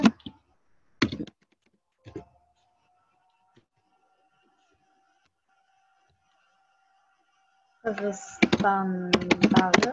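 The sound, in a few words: typing text on a computer keyboard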